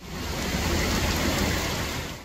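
Heavy rain pours steadily during a cyclonic storm in Albania, a dense continuous hiss and patter with no break, fairly even and moderately close.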